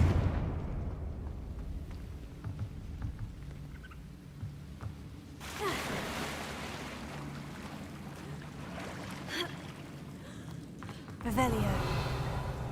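Confringo blasting curse from Hogwarts Legacy gameplay: a sudden loud burst at mid-point followed by rumbling, then another blast near the end, with talking over quieter game ambience.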